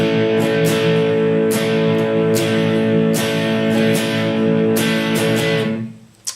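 Distorted electric guitar plays a riff, sustained chords strummed steadily with repeated pick attacks, loud and alone before the sound cuts off at the end.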